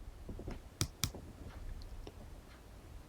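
A pair of sharp computer mouse clicks in quick succession, quiet and close, over a faint background of light ticking.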